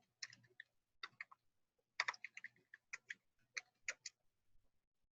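Rapid keystrokes on a computer keyboard typing a command on a Windows machine, in several short bursts of crisp clicks separated by brief pauses, close and fairly quiet with no talking.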